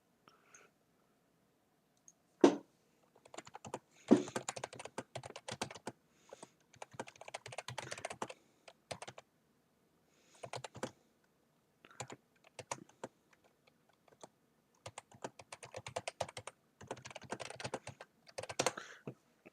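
Rapid bursts of typing on a computer keyboard, clattering in uneven runs separated by short silent pauses, close and clear with no voices.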